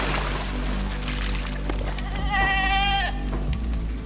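A sheep in a video game bleats once, a wavering, drawn-out cry heard clearly over a steady background of game ambience and low hum.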